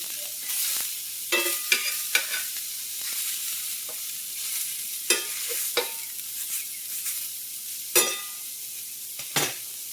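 Turkey meatballs fry in a pan with a steady high sizzle, and scattered clinks and scrapes of stirring rise above it at irregular intervals. Nobody speaks.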